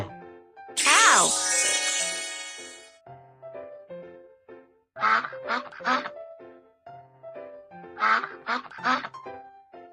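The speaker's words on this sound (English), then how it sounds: "Duck." A duck quacks in a burst of rapid, nasal calls, then several short paired quacks follow, close and clear, with a brief tinkling sound near the start.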